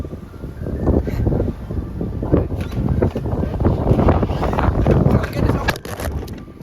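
Strong outdoor wind buffets the microphone with loud, rumbling gusts that surge and fade continuously, with a person talking over the roar.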